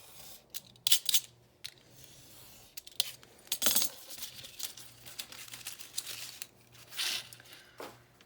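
Scissors snip through a paper template for a Halloween card design, giving a scattered run of short crisp cuts and light paper rustles at close range with no talking.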